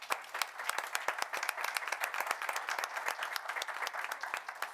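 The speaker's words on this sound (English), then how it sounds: "Please give them a round of applause." Audience at a town board meeting applauding, a steady run of many hands clapping at moderate volume from nearby, lasting several seconds with no voices over it.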